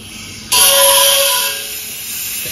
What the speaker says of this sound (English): Okay, so it is leaking. Can you hear that?